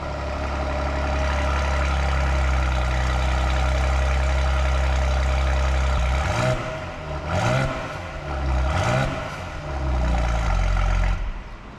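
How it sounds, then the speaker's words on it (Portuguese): Mercedes-Benz GLE 450 V6 biturbo SUV on a cold start, a loud steady deep idle rumble that drops partway through, followed by several short rising revs, heard close up with no talk. "Mercedes-Benz GLE 450 em ignição. Agora, olha o cool start dela, cara. O ronco que dá."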